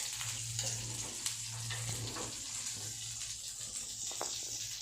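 Shami kababs frying in hot oil, a steady soft sizzle close by with faint bubbling and occasional light scrapes, and a low hum underneath throughout.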